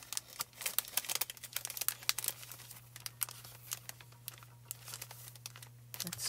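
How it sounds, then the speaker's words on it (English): Close crinkling and tearing as excess craft foil is peeled away from toner-printed stitched leaves, a rapid, irregular series of crisp crackles over a low steady hum, with no voices. "the negative is just the extra piece of foil that we pull off"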